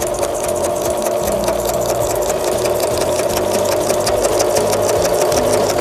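A sewing machine stitches through a paper card, running in a fast, steady, close mechanical whir with rapid needle ticking and no talk over it.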